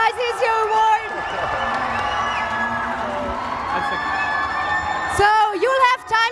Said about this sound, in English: Big hands of applause!